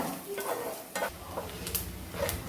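Coconut pieces frying in a pan give a continuous soft sizzle, interrupted by a few scraping stirs of a utensil against the pan, close and fairly quiet.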